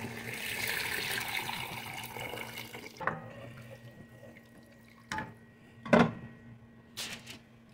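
Water pours steadily into a pot of sinigang for a few seconds, then stops; a few clanks and knocks of the pot or lid follow in a quiet kitchen.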